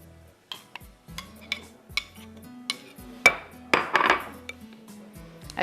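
A spoon stirs a yogurt mixture in a metal pot for chicken dumpukht biryani, knocking the pot's sides in a string of light, irregular clinks that get busier toward the end.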